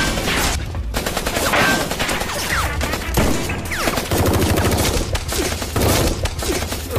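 Rapid bursts of gunfire crackle almost without pause through an action film street battle, dense and loud alongside other crashing effects.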